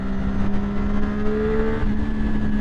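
A 2012 Triumph Daytona 675 motorcycle engine revs hard in third gear, a loud sustained high-pitched howl with steadily rising pitch under rushing wind, close and continuous without talk.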